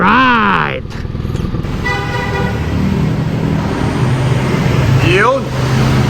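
Engine of a 2021 BMW R nineT Classic motorcycle in matte aluminium with a windscreen, loud and close, swelling and falling with throttle revs, with someone speaking over it.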